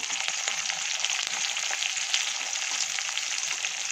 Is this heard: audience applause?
no